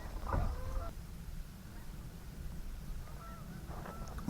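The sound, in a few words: geese honking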